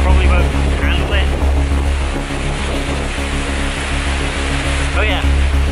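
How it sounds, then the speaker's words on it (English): Wind buffets the microphone in loud, rumbling low gusts, nearly continuous, with faint background tones and a brief chirp-like sound. "It's really windy and my muffs probably won't handle it."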